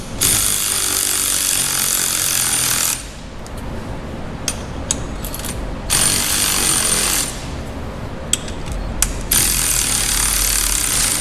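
Impact wrench driving a spring compressor on a Dodge Challenger coil spring, loud harsh rattling in several bursts separated by short pauses, close by.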